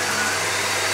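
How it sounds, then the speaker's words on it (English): A vacuum cleaner runs steadily and close, a loud continuous whirring drone with no break over the short moment. "So you got yourself a vacuum cleaner, did ya?"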